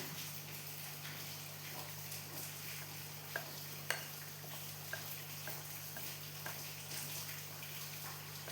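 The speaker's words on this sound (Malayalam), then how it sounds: "ഇനി തൊന്നുകൂടി നമുക്ക് ഇളക്കി കൊടുക്കാം" Kuzhalappam batter is stirred in a pan over a low, steady background hum, with soft scraping and occasional light taps, faint and close, no talk.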